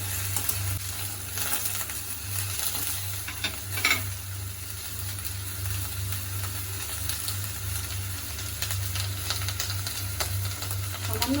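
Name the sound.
eggplant pieces frying in oil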